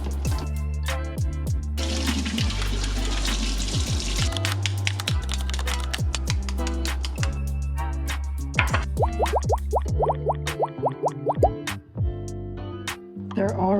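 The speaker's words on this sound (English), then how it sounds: "You want to drop the eggs in relatively gently, otherwise they will crack." Eggs lowered into a pot of boiling water, with a steady bubbling rumble under rapid clicks, knocks and plops, close and busy, ending in clattery splashes.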